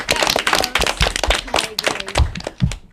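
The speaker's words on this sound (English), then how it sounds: "Hand of applause for yourselves." Applause from an audience at an elementary-school academic quiz match, a dense run of hand claps with scattered sharper slaps, steady and fairly close, for about three seconds without talk.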